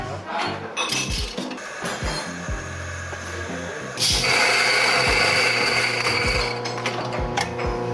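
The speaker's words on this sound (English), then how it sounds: "So I'm just gonna grind these coffees." Coffee grinder grinding beans in a barista's setting: loud whirring and rattling bursts with clinks and mechanical clatter, starting and stopping, a longer sustained grind in the second half, close by.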